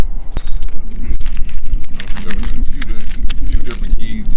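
Car keys for an old Mercedes W124 jangle and clink repeatedly as they are handled, close and fairly loud, under a person's talking.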